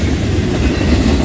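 A Norfolk Southern freight train rolls through Creighton, Pennsylvania, its cars giving a steady, loud, continuous rumble with rail clatter close by, and no voices over it.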